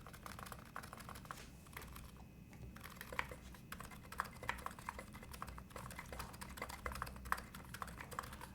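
Keystrokes on a Class80 electro-capacitive mechanical keyboard switched to silent mode, a steady stream of soft, muted clicks and thocks at a fast typing rhythm, close and quiet over a low background hum.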